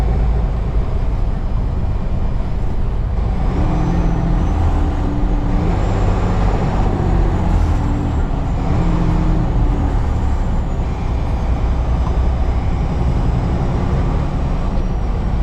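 Road traffic in a city heard from inside a truck cab on a northeast freight run near Hartford, a steady loud engine and road rumble with passing vehicles, no talk.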